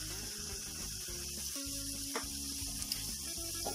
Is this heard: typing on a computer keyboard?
no